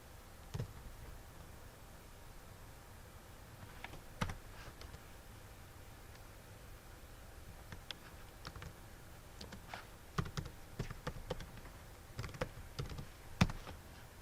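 Keys on a computer keyboard tapped in short, sparse bursts of clicks between quiet pauses, close but fairly soft, as commands are entered in PowerShell.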